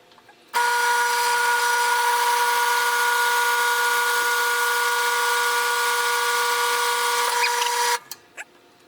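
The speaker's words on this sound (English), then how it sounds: "I've decided to use a 1/4-inch drill bit." A power drill fitted with a 1/4-inch bit bores into copper pipe, giving one loud, steady, tonal whine that starts abruptly, holds for about seven seconds and cuts off, followed by a couple of faint clicks.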